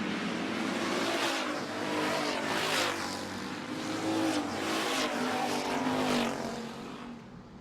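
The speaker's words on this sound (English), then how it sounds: "Sean Tunis now has the hook coming down the back straightaway and opens about a 6-car length lead on the 70 of Jesse Tunis" Street stock race cars roar down the back straightaway in a feature race, a loud continuous engine drone with several cars sweeping past in waves, no talk over it.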